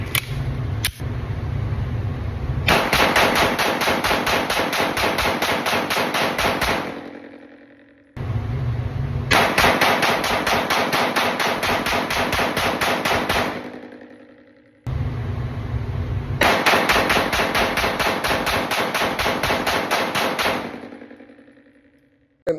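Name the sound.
Walther PDP Full Size pistol rapid gunfire, mag dumps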